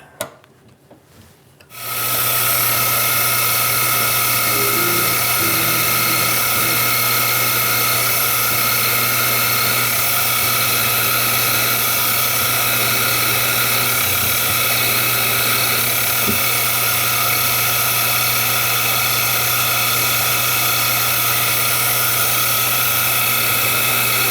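A drill press or mill bores a 2.4 mm M3 tapping-size hole straight through a metal part, starting abruptly and holding a loud, steady whine with an even machine hum for over twenty seconds, no talking.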